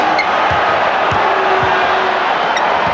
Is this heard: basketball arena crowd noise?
yes